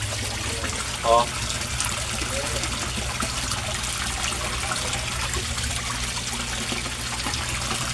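Koi pond filtration pump running, with water flowing and trickling steadily at a moderate level while a voice speaks briefly over it.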